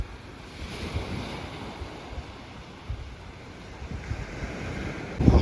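Small sea waves at high tide on Con Dao island, Vietnam, washing gently and repeatedly onto the shore with soft rushing swells under steady wind noise on the microphone, ending with a brief louder gust.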